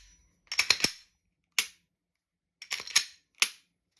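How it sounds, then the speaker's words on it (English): A Glock 17 pistol gives crisp, close metallic clicks from its slide and trigger during a function check, arriving in quick clusters with short pauses between them. "And check the functioning of the pistol."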